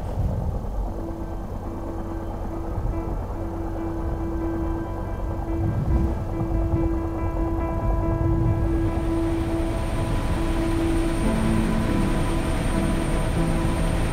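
A Bell 212 helicopter flying over Antarctica, heard from the cabin: a steady, loud rotor and turbine drone with a constant engine hum throughout.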